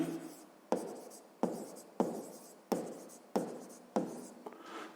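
A pen writing an answer by hand on paper for a sixth-grade maths exercise, six or seven firm scratchy strokes in a steady rhythm, each starting sharply and fading, close and quiet with no talking.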